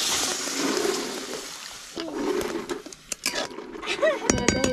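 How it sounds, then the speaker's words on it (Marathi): Water poured into a cooking pan over spiced oil for a dish of dried fish and val beans, heard as a brief broadband splash and sizzle near the start, followed by clinks and light handling sounds with some speech. "तर आता पाणी ओतते थोडंसं."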